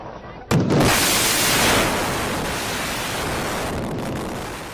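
A sharp demolition blast brings down twin tower high-rises, giving way to a long, roaring rumble of debris collapsing, a broad, sustained crash that slowly fades.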